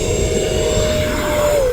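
An E-flite Viper 70mm electric ducted fan RC jet powers up for takeoff with half flaps, a loud, steady, high turbine-like whine whose pitch rises slightly toward the end, with no voices over it.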